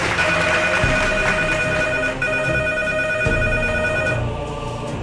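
Telephone ringing as a sound effect in a Playmobil spoof of a game show: a steady electronic ring with a continuous pulsing tone runs throughout and is loud and close.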